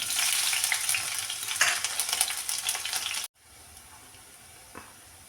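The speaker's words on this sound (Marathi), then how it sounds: "इथे आपण तेल घालून घेऊ मिरची घालू" Green chilies hit hot oil in a pan for sabudana khichdi, a loud bright hiss for about three seconds that cuts off abruptly and leaves a faint low simmer.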